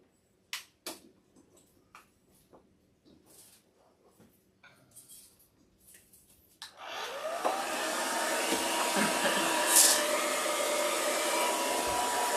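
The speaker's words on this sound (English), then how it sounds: "What are we plugging in? My blow dryer." A blow dryer set on low switches on after a few scattered clicks and taps, then runs as a steady, loud, close whoosh to drive off the milky haze of wet Mod Podge.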